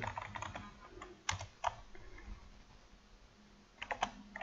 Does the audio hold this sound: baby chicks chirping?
no